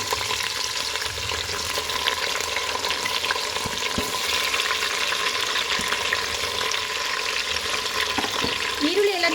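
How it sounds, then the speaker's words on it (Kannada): Onions frying in oil for chicken biryani give a continuous close sizzle with faint stirring and a brief watery sound near the end, with no talking. "ಫ್ರೈ ಆಗಿದ್ದಾದಮೇಲೆ ಈರುಳ್ಳಿ ಹಾಕ್ತಾ ಇದ್ದೀನಿ"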